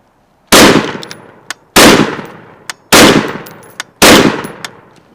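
An FS2000 rifle fitted with an ACOG fires four loud, sharp single shots at even intervals of a little over a second. Each crack is followed by a short ringing decay and a faint metallic clink.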